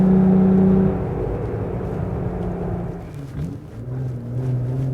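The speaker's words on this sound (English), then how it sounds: "So long, full throttle blast up this little hill." A Jeep fitted with a cold air intake climbs a small hill at full throttle in fourth gear, its engine droning loud and steady with a brief dip and swell as the revs climb.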